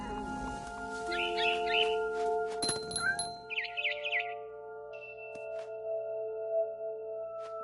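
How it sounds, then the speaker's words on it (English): A barn swallow chirps in the video game What Remains of Edith Finch, with short twittering bursts near and fairly clear over sustained tonal game ambience and a few soft chime-like hits. "Then I heard chirping outside my window. It was a barn swallow going back to her nest."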